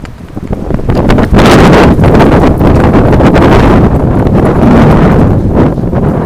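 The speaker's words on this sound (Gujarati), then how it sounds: "મસ્ત સરસ મજાનો પવન વાય છે" Strong wind on a hillside near the Bhadrakali temple at Pavagadh, Gujarat, roars and buffets the microphone, rising sharply after a moment and staying loud and gusty throughout, with faint rustling underneath.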